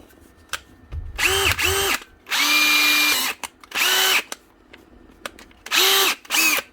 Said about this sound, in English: Now, DeWalt drill with a new chuck.